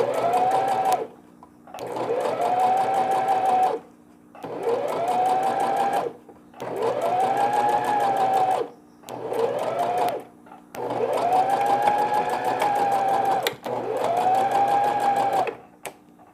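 Sewing machine stitching two fabric pieces together for a round newborn baby pillow, running in seven close, loud bursts of a few seconds each with brief pauses between them.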